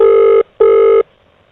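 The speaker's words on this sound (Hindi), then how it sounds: "मैं अपने पति देव को फोन कर रही हूँ" Two long, loud electronic telephone tones, each about half a second with a brief gap between them, sound as a wife places a call to her husband in a Hindi family comedy sketch.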